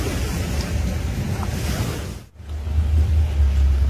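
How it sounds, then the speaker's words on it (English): Loud ocean waves surge and crash continuously with heavy wind buffeting the microphone, a brief lull midway before the roaring surf builds again even louder and closer. "There are so many waves. And it's so loud."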